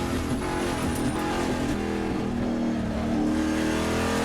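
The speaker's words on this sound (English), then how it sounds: "JC Monet coming around turn 4, and then Troy Ermish back out" A Trans Am race car at Laguna Seca, a steady loud engine drone with a shifting pitch as the car runs through a turn, accelerating with no voices over it.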